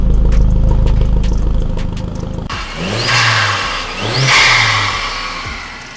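The 225 hp BAM engine of a Mk1 Seat Leon Cupra R, unused for a couple of years, cranks and catches, then revs up and down in a couple of swelling pulls, loud and close.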